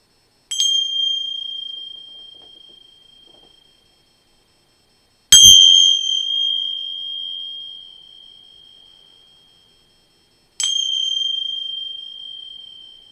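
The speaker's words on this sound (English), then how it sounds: "You will hear 3 loud noises from these bells" Three loud bell rings come at even intervals of about five seconds, each a bright single strike with a long ringing tone that slowly fades before the next, with no voices.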